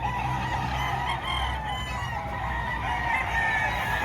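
An eight-month-old Sweater breed rooster crows at a poultry market in Padre Garcia, Batangas, its call rising over busy background noise and clucking from other fowl.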